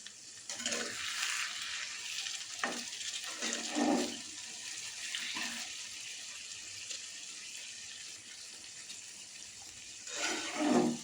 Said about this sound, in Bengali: এবার দিয়ে দিচ্ছি জলটা।